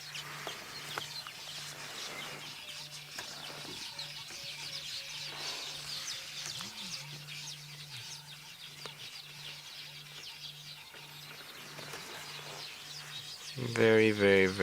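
A dense, continuous chorus of weaver birds chattering and calling at sunset in the African bush, with a steady low hum underneath and a louder burst near the end.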